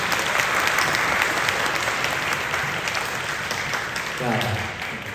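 Sustained applause from a studio audience at a Korean talk show event marking President Syngman Rhee's 150th anniversary, steady and dense throughout, with a voice speaking over the clapping near the end.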